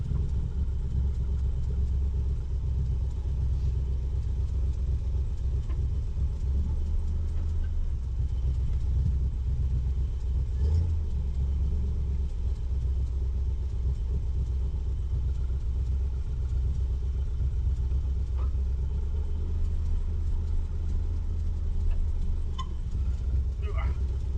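A car engine runs steadily after an overdrive transmission swap, a low continuous rumble that holds throughout with a slight change in pitch partway through.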